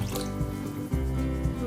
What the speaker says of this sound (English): add water as per the desired consistency for the soup